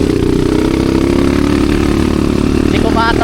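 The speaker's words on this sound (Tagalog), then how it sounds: "Hindi ko maataw yung motor ko kasi hindi ito yung motor ko talaga." A Yamaha Mio scooter engine drones steadily while riding a rainy trail near Santa Lourdes, a loud continuous hum with road and rain noise, and a voice briefly calls out near the end.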